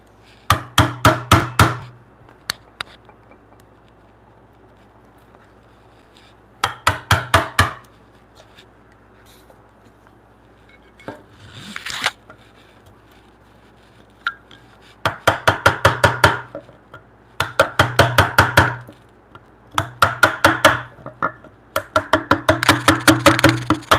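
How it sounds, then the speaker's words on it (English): Small chisel carving a mortise in wood in a woodshop, heard as bursts of rapid tapping strikes, several clustered groups separated by quieter pauses, close and fairly loud. "Again, with the small chisel here. You're just doing surgery on the wood."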